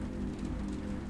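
Rain falls against a wire-meshed window pane, a steady dense patter of drops with no pauses, heard alone.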